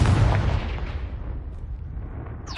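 A Confringo blast spell from the Hogwarts Legacy game goes off as a loud, booming explosion, then rumbles and decays over a couple of seconds, with a sharp burst at the very end.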